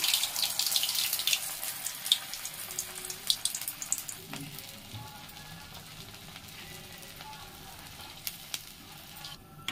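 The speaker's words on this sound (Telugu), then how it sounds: "ఇప్పుడు దీన్ని ఆయిల్లో డీప్ ఫ్రై చేసుకుందాం." Aloo bites (potato bites) deep frying in hot oil: an intense bubbling sizzle at first with sharp pops, settling into a steadier, softer crackle as the frying continues.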